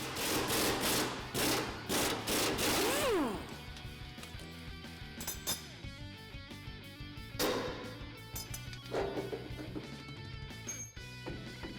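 A 27mm socket works the front leaf spring bolt loose on a Ford F-150, with a run of loud rapid impact-wrench hammering followed by scattered clanks and metallic knocks.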